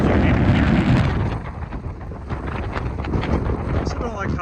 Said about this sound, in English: it's super windy up here. I don't know if you can even hear me.